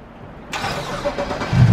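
A car engine cranks and catches, starting abruptly after a quiet moment, then settles into a rough idle that swells slightly louder toward the end, close and alone without talk.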